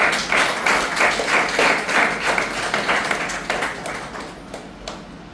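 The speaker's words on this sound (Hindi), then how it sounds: "एक बार अपने लिए तालियां बजाइए।" An audience at a live training session claps for themselves, a sustained patter of many hands that stays fairly even and slowly thins out toward the end.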